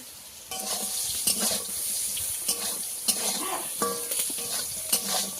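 Steady hiss of eggplant frying in hot oil, close up, with intermittent clinks and scrapes of stirring and no voices.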